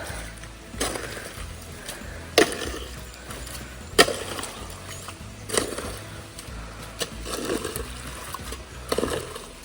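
Irrigation water trickles and gurgles as it is led along a dug channel into a paddy nursery bed, a soft, steady flow broken by a few sharp knocks and thumps of digging nearby.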